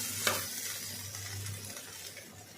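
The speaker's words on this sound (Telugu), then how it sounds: "మనం ఉప్పు, కారం, పసుపు వేసి ఫ్రై చేసిన తర్వాత ఇంకా ఇలా ఫ్రై అయ్యేటప్పుడు" Ivy gourd frying in a pan with salt, chili and turmeric gives a soft steady sizzle, broken early by one sharp scrape of a stirring spoon. A low hum runs beneath, and no one speaks.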